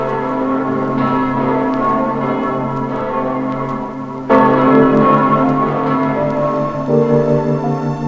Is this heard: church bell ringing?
yes